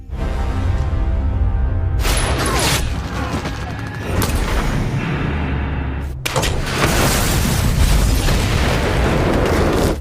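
Film action scene of a van exploding: a sequence of heavy booms and bursts follows gunfire, with loud, dense blasts and rumbling debris continuing throughout.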